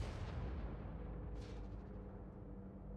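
Tank cannon fire in a World of Tanks console match, a low booming shot rolling out from the start with a second crack partway through, distant and muffled under faint battle rumble.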